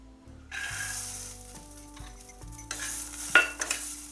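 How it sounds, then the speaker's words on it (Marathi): Val beans dry roasting in a pan: after a near-silent start, a dry rustling hiss sets in with stirring scrapes and a few sharp clinks of spoon against metal toward the end, close and moderately loud. "तर आता मी वालही भाजून घेत आहे"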